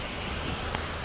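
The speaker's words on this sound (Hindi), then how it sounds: "धुआंधार बारिश हो रही, देख सकते हैं रोड पे भी" Heavy rain falling on a road in Hyderabad, a dense even hiss with no voices, fairly soft and continuous throughout.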